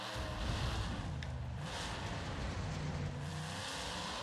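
Monster truck engine at full throttle in the video game Monster Truck Championship, a steady loud droning roar held without break.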